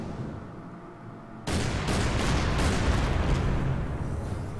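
Battleship guns fire in a naval battle in the Order of Battle strategy game, one heavy blast followed by rolling, sustained booming and crackle that fills the remainder.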